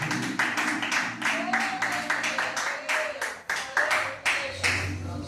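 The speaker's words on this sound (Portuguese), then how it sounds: "Aplauda ele, porque ele merece toda a honra," Rhythmic group clapping in a church service, loud and close, with evenly spaced claps while a voice calls out and sings over them and a low hum sits underneath.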